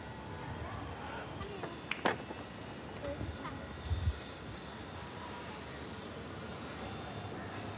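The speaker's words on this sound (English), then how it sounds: "And just to the left, they've got the Bombay train for public transport." A Bombay local train rumbles past beside a laundry slum community in India, a steady broad roar of wheels and motion that fills the whole stretch, with a few brief knocks and clatters rising above it.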